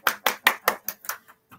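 A few people clapping in a small studio, about eight separate claps in an uneven rhythm that fade out, close and clear with no talk.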